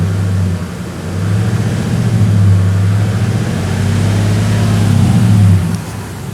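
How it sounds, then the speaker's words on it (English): A Dodge Ram's 5.7L Hemi V8 idles steadily after a water pump service, a low, even rumble with a slight rise in the middle, close and alone with no talk. "these Hemis do not like to be idled"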